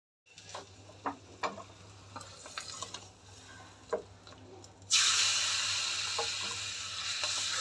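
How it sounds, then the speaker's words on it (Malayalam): Mustard seeds dropped into hot oil for a yogurt curry, a few scattered pops and crackles at first, then a sudden loud, steady hissing sizzle that continues to the end. "ഇനി അതിന് കടുകൂടെ വറുത്ത് ചേർക്കാം."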